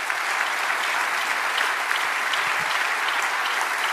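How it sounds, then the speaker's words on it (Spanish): Steady applause from a church congregation during a sermon, dense and sustained from start to finish without a break. "Dale un aplauso al Señor."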